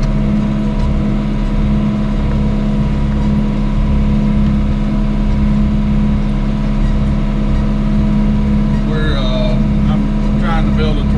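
A John Deere 6420 tractor pulls a five-yard dirt pan with a loud, constant droning engine close by, its hum steady throughout, while a few brief higher chirping sounds appear near the end.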